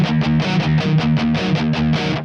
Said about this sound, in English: If you chug along the low E with it, it sounds really cool.